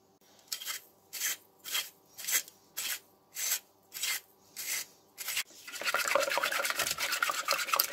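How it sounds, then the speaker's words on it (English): Gouda and cheddar cheese are grated by hand, starting as about nine evenly spaced close rasping strokes, then running into a faster, continuous scraping flurry, with no speech. "Then she grates 2 types of cheese Gouda, and cheddar."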